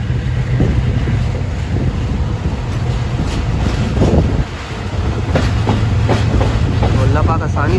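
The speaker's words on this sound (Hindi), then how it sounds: "रेलवे स्टेशन प्लेटफॉर्म नंबर 1 पर हमारी ट्रेन दाखिल हो रही है।" A train pulls into platform 1 of a railway station: steady rumbling rail noise with clattering wheel clicks and wind buffeting, loud and close, with faint voices at times.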